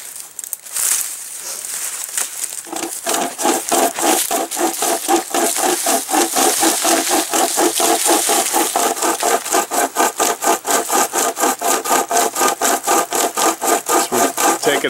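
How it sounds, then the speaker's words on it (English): Cold Steel Trail Boss pocket chainsaw cutting through wood, a steady, rapid rhythmic rasp of back-and-forth strokes that runs loud and close for the whole stretch with no talking. "So we're taking an axe video and turned it into a pocket chainsaw video."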